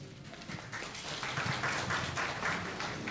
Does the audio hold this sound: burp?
no